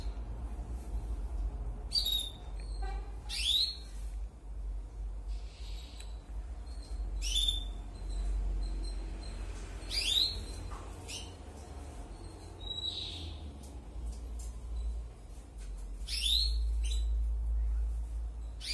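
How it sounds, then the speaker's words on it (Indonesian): Short high chirps and squeaks from three Java sparrow chicks in a nest with a brooding canary, sporadic bursts over a steady low hum, close by. "burung kenari lagi ngeram dikasih anak emprit taji tiga ekor"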